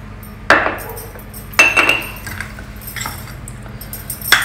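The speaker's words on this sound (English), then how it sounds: "Mix everything with a light hand so that the grains still remain separate" Ingredients for sundal, a South Indian festival prasadam of boiled grains, being stirred together in a pan, with a few sharp metallic clinks of a spoon against the pan over a quiet background.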